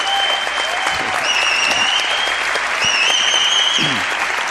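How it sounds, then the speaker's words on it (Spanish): Steady audience applause at a televised event honouring a former team captain, dense and continuous for the whole stretch, with a few faint whistles rising above the clapping. "Pido un aplauso para él."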